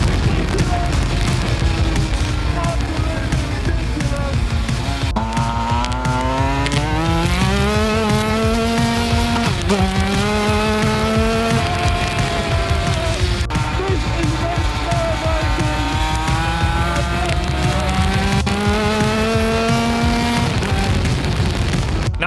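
A very fast go-kart screams around a track, its engine note rising and falling through repeated climbing pitch sweeps as it accelerates and brakes, loud and continuous throughout with possible voices underneath.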